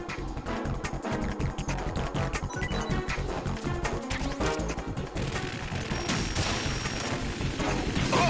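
Gunfire in Metal Gear Solid 2: continuous heavy automatic shooting with rapid rhythmic shots and deep booming impacts, loud and dense throughout over a steady game soundtrack.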